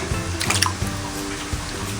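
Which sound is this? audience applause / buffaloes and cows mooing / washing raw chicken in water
washing raw chicken in water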